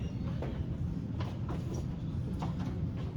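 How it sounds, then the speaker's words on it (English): A classroom door is pushed shut, giving a few soft thuds and knocks spread over about three seconds above a steady low room rumble, with no voices. "Here, I'm going to shut the door."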